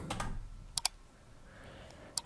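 Brief bursts of computer keyboard typing, a quick cluster of keystrokes at the start, a pair of clicks near the middle and another short pair at the end, fairly close and quiet with no voice.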